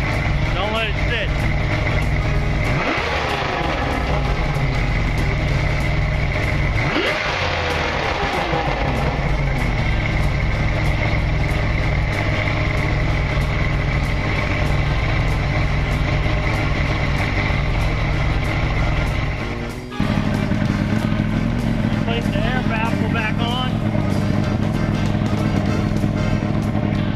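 An outboard motor runs steadily on carburetor cleaner mix after a carb cleaning, its engine drone loud and continuous throughout with a brief dip near the twenty-second mark.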